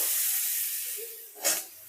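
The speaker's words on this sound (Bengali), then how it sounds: "এখন আমি কড়াইয়ের মধ্যে দিয়ে দিচ্ছি মিষ্টি কুমড়ো" Pieces of sweet pumpkin dropped into a hot wok of mustard oil with dry red chillies and black mustard seeds, a loud steady sizzle that eases off, then a sharp hissing burst as more goes in.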